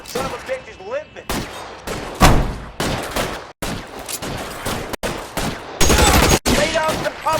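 Heavy gunfire in the video game LA Noire, loud volleys and bursts of shots cutting in and out in sharp blocks with brief silent gaps, mixed with shouting voices.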